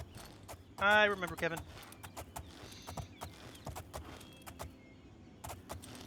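Horse hooves clop in a steady, muted rhythm in the video game Oblivion, running faintly beneath continuous talking, with a brief louder whinny-like call near the start.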